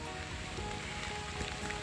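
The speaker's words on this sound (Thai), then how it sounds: "ว้าฝนตกซะมะ" Rain falling steadily outdoors in rural Laos, a soft continuous patter that stays even and fairly quiet throughout, with no voices.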